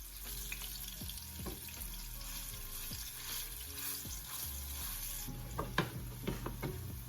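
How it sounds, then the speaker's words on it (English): Garlic cloves being mashed with a fork in a sizzling pan, with steady frying hiss under a series of soft scraping, pressing taps, busier clatter toward the end. "Switch to a fork just so that I can start to kind of smash up these garlic cloves."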